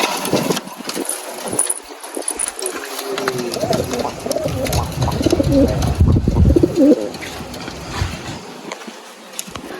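Pigeons coo repeatedly at close range amid a busy backdrop of wing flutters, insect buzz and a low engine hum.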